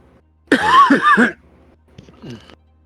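A man's cough, a loud cluster of two or three harsh bursts close to the mic, followed after a pause by a fainter short throat-clearing cough.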